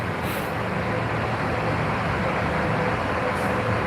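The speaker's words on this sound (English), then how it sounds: "Here goes that same green car." A green car passes on the road amid steady, broad traffic rumble, a continuous close-up roar with no clear start or end and no voices.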